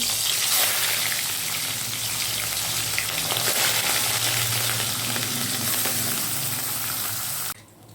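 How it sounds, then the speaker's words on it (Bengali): Fish sizzles loudly in hot mustard oil, a steady close crackling hiss that cuts off abruptly at the end. "এবার আমি মাছগুলোকে তেলের মধ্যে দিয়ে দিচ্ছি এক এক করে"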